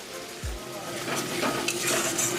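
Spice masala with chili powder is stir-fried in a pot for chicken biryani, a soft steady sizzle with a dull knock and light scraping of a spoon, close and brief.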